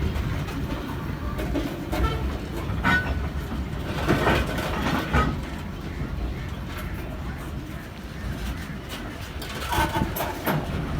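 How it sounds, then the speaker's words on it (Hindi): Train rumbling along with rhythmic clatter and bursts of brake noise, loud and close, with no voices. "ये ब्रेक मारते हैं तो आवाज़ इस तरह आ जाता है।"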